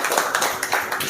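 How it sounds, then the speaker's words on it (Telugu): An audience applauds together after a presenter asks for a round of clapping at a sales and leadership meeting, producing a dense, steady patter of many hands at moderate loudness throughout the short burst. "గట్టిగా చప్పట్లు కొట్టండి ఒకసారి."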